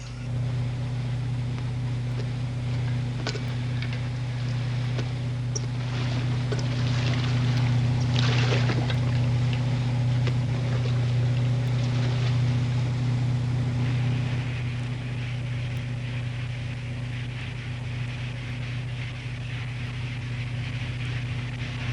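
Ship's starboard engine running slow ahead, a steady low rumbling drone with constant hum and some wind or water wash, no voices, fairly loud and unchanging for the whole stretch.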